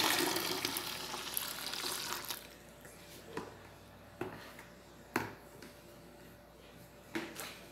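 Water poured into a small bucket while making homemade liquid soap, a steady splashing stream that fades out, followed by a few scattered knocks and clatters.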